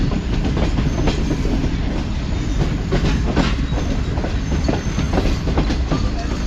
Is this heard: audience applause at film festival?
no